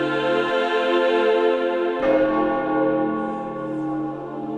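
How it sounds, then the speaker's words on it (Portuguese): A large church bell rings the Angelus with a rich, sustained tone, struck again midway and left resonating as the hum slowly fades. "O sino com esse som que vai e espalha pelo ambiente"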